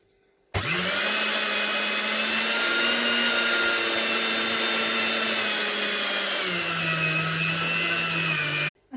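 An electric grinder whirs loudly and evenly as it grinds sesame seeds for sellou. The motor spins up abruptly, holds a steady drone, drops slightly in pitch near the end, then cuts off.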